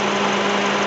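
A 2007 Honda CR-V engine idles steadily, a close, even hum with a faint vibrating texture and no pauses across the short stretch.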